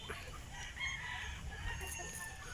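Plymouth and BPR breeding chickens in an outdoor range cluck and crow over a steady rustling background, with one bird's crow rising clearly near the middle of the short stretch.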